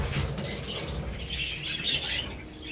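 Pet budgerigars flap their wings in a cage while being separated for pairing, a close, continuous fluttering rustle with brief swells and no talk.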